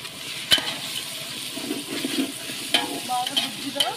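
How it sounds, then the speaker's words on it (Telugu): Tomatoes frying with salt in a pan give off a soft continuous sizzle, with occasional spoon taps and scrapes breaking through at close range and no talking. "ఆ తర్వాత ఆ టొమాటో వేగేది త్వరగా వేగాలి అంటే కాస్త ఉప్పు వేసుకుంటే త్వరగా వేగుతుంది."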